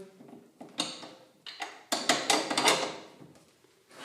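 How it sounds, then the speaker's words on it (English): Bolt pushed through the rear shock absorber mount of a 36V 1000W Panther electric mini cross dirt bike and fastened with a nut, giving a run of close metallic clanks, taps and scraping clicks in uneven bursts. "insert the bolt through it"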